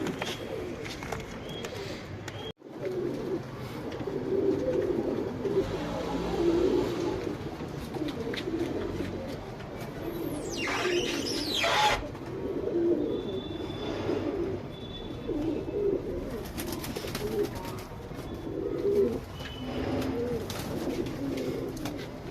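Tumbler pigeons coo in a steady, soft murmur of repeated throaty calls, with several birds overlapping close by in a loft and a faint high whistle passing through midway.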